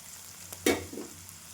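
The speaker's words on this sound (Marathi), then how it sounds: "आपली भाजी छान आता शिजते आहे" Ridge gourd vegetable cooking in a pan, with a soft stir or scrape and a short burst of quiet sizzling and frying against a low, steady background.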